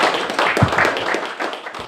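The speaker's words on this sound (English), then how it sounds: "So let's give a round of applause." Applause for a speaker at a radio-controlled glider hobby gathering, brief scattered claps and taps from a modest audience, fairly close and dry, lasting under two seconds.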